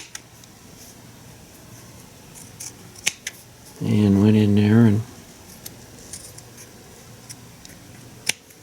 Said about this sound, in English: Then I just took scissors here